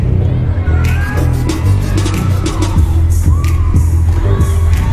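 A gymnastics meet crowd in Pauley Pavilion cheers and whoops loudly and steadily, with scattered shouts rising above the roar.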